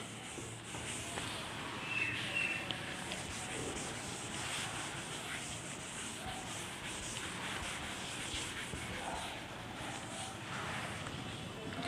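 Chalk writing is rubbed off a board during a physics lesson, giving a steady, continuous scrubbing and rubbing that runs the whole length at moderate loudness, close to the microphone.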